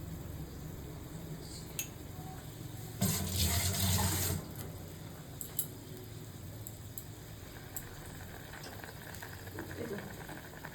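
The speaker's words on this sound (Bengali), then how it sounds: "গ্যাসের ফ্লেমটাকে আমি বাড়িয়ে দিলাম। একটু ফুটবে" Bengali fish curry of pabda and amudi fish bubbles over a raised gas flame, a low, steady simmering hiss with a louder rushing swell midway and a faint voice in the background.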